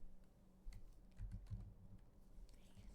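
Computer keyboard keys pressed down by someone sitting on the keyboard, an irregular cluster of soft, muffled clacks and thumps, fairly quiet and close.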